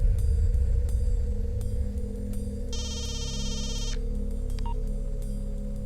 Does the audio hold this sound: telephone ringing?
yes